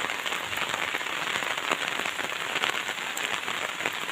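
Light drizzling rain falls steadily on surfaces outdoors near homes in cold weather, a dense, even patter that holds at the same level throughout with no voices.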